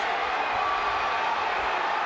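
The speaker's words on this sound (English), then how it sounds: "this crowd will respond to every punch thrown by Keene" A boxing arena crowd at a pro fight gives off a dense, steady roar of murmuring and cheering, broad and distant with no single clear outburst.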